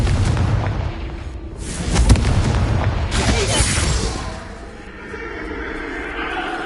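Confringo blasting spells explode with deep booming bursts in Hogwarts Legacy on PS5, several loud blasts layered with crackling debris and voice-like cries over a dense game soundscape.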